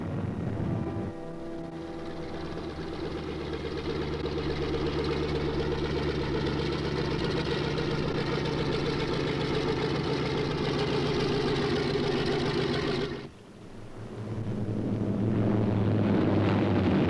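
A B-26 bomber's piston engines run with a heavy, sustained drone, building slightly before a brief dip and resurging, loud and continuous with no voices.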